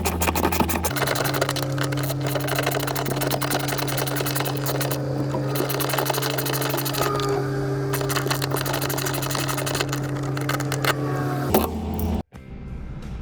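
Tightening the cable shaft of an AccuSlide RV slide-out, held with vice grips, makes a steady mechanical whirring grind for about eleven seconds before it cuts off abruptly.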